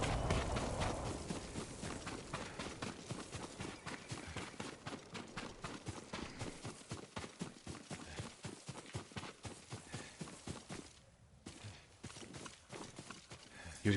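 Horse hooves clip-clop steadily at a walking pace in a video game, a continuous run of fairly quiet, even hoofbeats with a short lull near the end.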